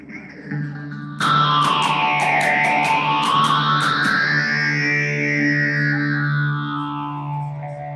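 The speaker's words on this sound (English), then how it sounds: "I'm going to put whole reverb on, just to see what it sounds like." An electric guitar plays sustained notes and a sweeping bend through a hall reverb effect, the long, spacious reverb letting the tones ring and linger.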